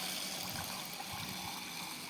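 Running water pours steadily over sago pearls being rinsed, a continuous close trickling wash with no talk.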